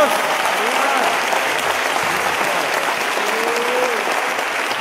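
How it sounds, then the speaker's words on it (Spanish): A church congregation in Guatemala breaks into loud, dense applause that holds steady throughout, with a few faint voices mixed into the crowd noise. "De esta manera, puede darle un aplauso al Señor."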